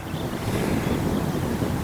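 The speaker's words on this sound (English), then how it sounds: "we've got a headwind, left to right headwind" Headwind gusting across an open community disc golf park, a steady low rumble of wind buffeting the microphone, constant and fairly quiet with no talk.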